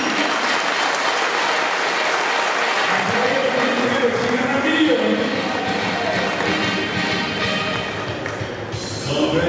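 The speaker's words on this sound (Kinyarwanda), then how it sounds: "tumukomere amashyi menshi cyane" A crowd at a youth awards ceremony applauds in a dense, sustained burst of clapping that stays loud throughout, with voices mixed into the sound.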